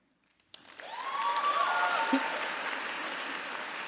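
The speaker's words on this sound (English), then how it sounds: "Let's hold our applause until everybody" Audience applause breaks out suddenly at a school graduation ceremony and swells into steady, sustained clapping from a large crowd, continuing throughout without a break.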